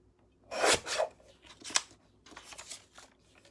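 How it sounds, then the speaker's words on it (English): A small paper trimmer slicing through paper for a mini album, heard as a few close, crisp bursts of cutting and sliding with short pauses between strokes. "I'm going to use my small trimmer."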